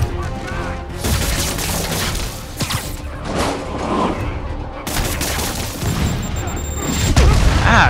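Homing rockets exploding during a fight in the video game Marvel's Spider-Man, a dense, loud barrage of booms, blasts and whooshing impacts that keeps going without a break, with a voice talking partly underneath.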